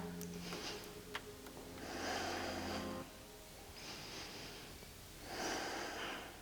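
Slow, deep breaths during a standing yoga side stretch with the right arm reaching overhead: two long, soft airy swells of inhale and exhale, close and steady, over a faint low background tone.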